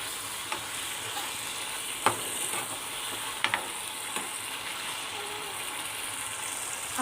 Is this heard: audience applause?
no